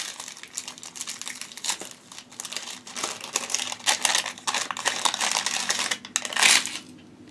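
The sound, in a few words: crinkling package of vintage seed beads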